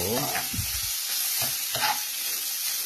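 Onion, garlic and beef sautéing in a pan for Pangasinan pigar-pigar, a continuous loud hiss of frying with a few stirring knocks near the start, close and without speech.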